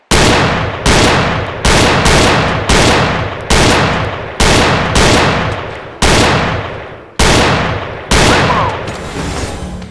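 Repeated gunfire from weapons in the VR shooting game Gun Club VR: about ten loud, sharp shots spaced roughly a second apart, each trailing off in a short decay, with no talk.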